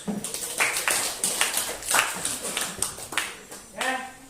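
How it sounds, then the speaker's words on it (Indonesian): Students in an Indonesian-language classroom clap for a group after its presentation: a small, uneven burst of distinct, fairly close hand claps, a few at a time, over several seconds. "Oke, tepuk tangan dulu."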